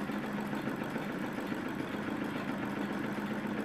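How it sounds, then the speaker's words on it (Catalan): A model engine in an exhibit of historical invention models runs with a steady, even mechanical hum and rattle throughout, no voices heard. "És un motor."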